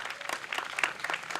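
Faint, brief applause from an audience at a library branch grand opening and ribbon cutting, a soft scattered patter of clapping heard at a distance.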